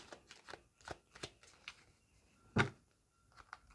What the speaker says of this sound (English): I'll have a shuffle.